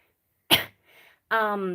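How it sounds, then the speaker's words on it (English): A single short, sharp cough up close, followed by a soft breath and a brief voiced sound. "Like right now, I feel like I just need to do a little cough."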